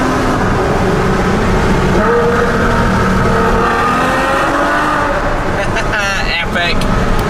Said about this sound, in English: even just downshifting sounds so good in this thing.